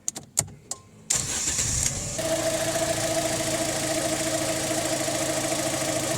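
A car engine starts with a few sharp clicks and a short cranking burst, then catches and settles into a steady, fairly loud idle hum, with no talking.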